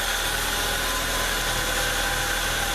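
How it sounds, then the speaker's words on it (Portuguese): A Fiat Palio Fire 1.3 8v engine idles after a valve adjustment, a steady, even hum with constant broadband noise, close and unbroken, with no talk. "O motor extremamente quieto, tá? Quase nada de vibração."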